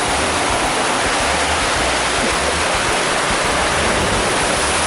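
Steady, loud, unbroken roar of rushing water at the Torbellino funnel slide in the Splash Water World water park at Riu Palace Costa Mujeres, filling the whole sound with no pauses.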